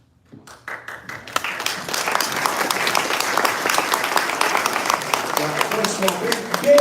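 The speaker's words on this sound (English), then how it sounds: "big round of applause for the American Legion of San Diego" Audience applause for the American Legion of San Diego color guard at a civic State of the North County event in San Diego swells from a few scattered claps into sustained, dense clapping from a large seated crowd that holds steady and strong.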